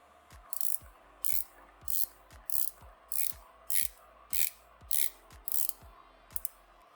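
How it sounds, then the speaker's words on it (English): Rotating bezel of a Breitling SuperOcean 42 watch gives a steady run of about ten crisp, regular clicks, each a short bright ratchet tick, very close and quiet with no voices. "Give a listen to the 120 clicks."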